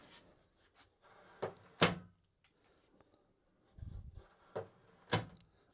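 A wooden security cabinet door's bolt slides and clacks against a newly mounted strike, several sharp knocks and thuds with quiet scraping between them, close and fairly faint.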